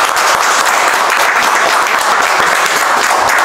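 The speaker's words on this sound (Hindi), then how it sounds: "इनके लिए एक जोरदार ताली हो जाए" Loud, dense clapping from a group during a mobile phone CPU chip repair training session, continuous and even across the whole stretch with no talking over it.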